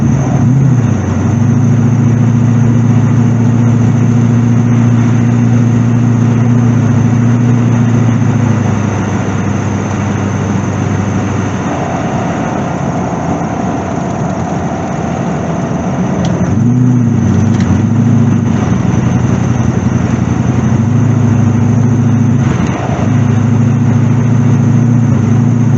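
A Chevrolet C4 Corvette with no-acceleration trouble, its engine droning loudly from inside the car, stumbling and wavering in pitch as it tries to pull, with a brief drop in tone midway before the steady note returns.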